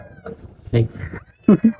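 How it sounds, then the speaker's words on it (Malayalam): A household kitten meows close by, a few short, high cries in quick succession, with a person's voice speaking briefly alongside. "എന്താ പൂച്ചക്കുഞ്ഞി അത് ഇവിടുത്തെ പെറ്റാണ് കേട്ടോ"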